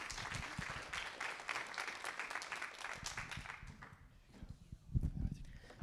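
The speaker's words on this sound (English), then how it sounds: "Let's give them one more round of applause." An audience claps in a dense, fairly faint burst that thins out after a few seconds, with a voice briefly audible near the end.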